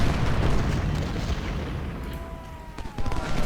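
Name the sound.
musket volleys in Ultimate General: Civil War video game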